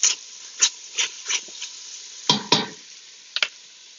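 A pot of beef stew being stirred: a run of spaced scraping and clinking strokes against the pot, a few louder clustered ones near the end, over a faint steady hiss.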